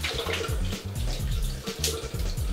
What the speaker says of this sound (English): just get your hands nice and warm, and then just take this hot water